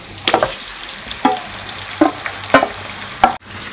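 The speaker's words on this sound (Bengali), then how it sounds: "এবার এর মধ্যে দিয়ে দেবো আমি ম্যারিনেট করা চিকেনটা" Marinated chicken sizzling as it goes into deep-red fried onions in a hot pan, with a steady frying hiss broken by several sharp bursts of sizzle and stirring clatter, close and fairly loud, no talk.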